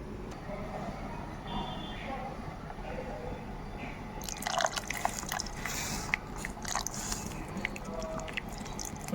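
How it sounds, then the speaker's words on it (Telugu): Water is poured into a pot of tamarind pulusu, a spattering, splashy stream that starts midway over a low steady kitchen background hum and carries on to the end. "ఇది నేనైతే కొంచెం వాటర్ వేసుకొని పోసేసుకుంటాను అందులో"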